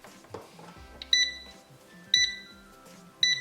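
An air fryer sounds three short, bright electronic beeps, evenly spaced about a second apart, close by and clear over a quiet room after being plugged in.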